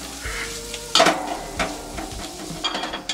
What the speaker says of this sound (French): Puis vous mettez une belle pincée de persil et vous faites sauter.